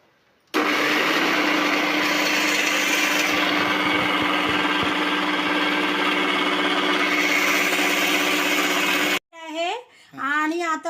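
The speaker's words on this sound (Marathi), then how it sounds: "आता आपण वाटून घेऊ मिक्सरला" A kitchen mixer grinder grinds cooled, golden-roasted coconut with a loud, steady high-pitched whine that cuts off abruptly, followed by someone speaking.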